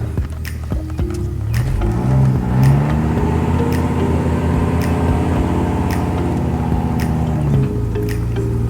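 The small motors of a cheap boat run steadily and loudly close by, a droning hum with wavering pitch and splashing water mixed in.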